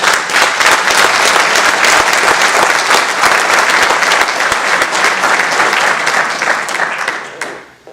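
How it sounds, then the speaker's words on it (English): A conference audience gives another round of applause, loud dense clapping from many hands that holds steady for several seconds, then thins out and fades quickly at the end. "they need another round of applause"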